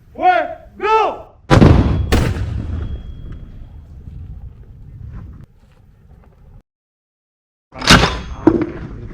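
A traditional ceremonial cannon salute fires at Fortaleza del Hacho in Ceuta, giving a loud, sharp blast followed by a long rumbling echo that fades to silence, then a second burst of noise near the end, with brief voices at the start.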